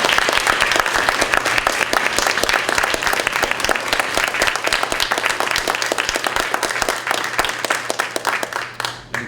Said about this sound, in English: Let's give Mr. Sullins a round of applause.